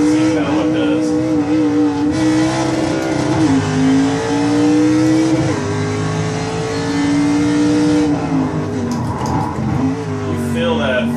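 A racing car engine in a sim racing game revs and accelerates loudly through gear changes, its pitch climbing and dropping, with brief tire squeal near the end; a steering wheel is in use.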